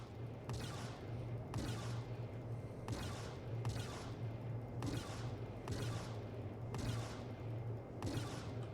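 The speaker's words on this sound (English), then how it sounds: "There's still somebody shooting." Gunfire in the Star Citizen space game, quiet bursts of shots repeating at a steady pace about once a second over a constant low hum, distant and faint.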